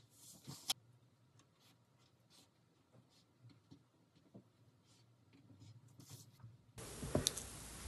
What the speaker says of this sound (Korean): 소매를 그리겠습니다.